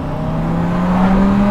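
Purple Lamborghini Huracan LP610-4 engine roars steadily nearby, a loud continuous rev that climbs slightly in pitch toward the end, with no speech over it.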